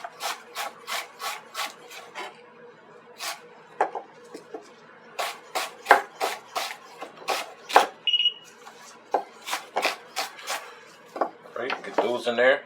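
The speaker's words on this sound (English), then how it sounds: "I'm going to chop up some shallots." A knife chopping shallots on a cutting board, with quick bursts of crisp, close tapping strokes followed by pauses, then a short scraping sound at the end.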